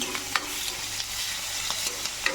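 Onions and chillies fry in hot oil in a kerahi while a spoon stirs them, giving a steady close sizzle with scraping strokes and a few sharp clicks against the pan.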